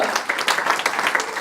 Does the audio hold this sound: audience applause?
yes